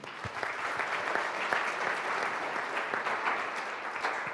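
An audience claps steadily after a talk at a 2018 CEO panel event, a dense and moderately loud patter of many hands that continues without letup for several seconds.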